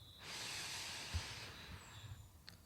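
A slow breath drawn in through the nose during a guided relaxation, a long soft airy hiss that swells and fades, close and quiet with a faint tone at the start.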